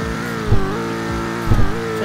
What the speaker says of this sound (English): here's the startup. As you can see, it sounds pretty nice, not the best startup, but still your average SUV startup